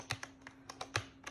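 Quiet, close clicks come from individual key presses on a Corsair K95 RGB Platinum mechanical gaming keyboard, about eight taps in an uneven rhythm with a faint steady hum underneath.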